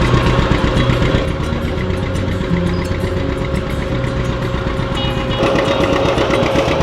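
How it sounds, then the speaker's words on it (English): A John Deere tractor engine runs steadily in an apple orchard while climbing a hill, a loud, continuous low rumble with a knocking, mower-like chug throughout and no breaks. "Got the John Deere going there."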